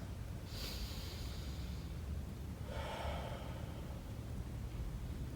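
A deep breath taken during a sun salutation yoga sequence: one long, close inhale followed by a slower, softer exhale over a steady low background hum, with no talking.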